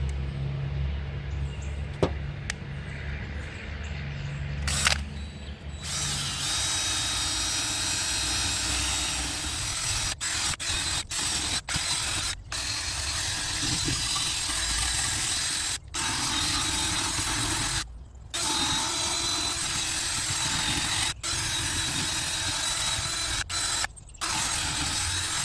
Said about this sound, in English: Get you some of these little wire wheels